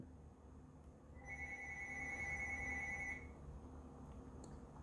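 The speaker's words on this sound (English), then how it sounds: "And phone's ringing." A telephone rings with a bright electronic trill lasting about two seconds, then stops, over a quiet low background hum.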